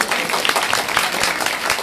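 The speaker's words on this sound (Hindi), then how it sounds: "जोरदार तालियां बजाइए।" Audience at a religious katha gathering in Ghaziabad breaks into loud, dense applause, many hands clapping steadily throughout.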